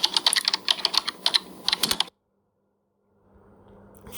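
Rapid keyboard typing sound effect from a phone video-editing app, a dense burst of crisp clicks for about two seconds, then silence and a faint low hum.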